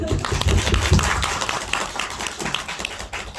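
Audience applause at a film screening Q&A with the director and an actor. Steady, dense clapping runs throughout, fairly loud and close, with a faint voice mixed in.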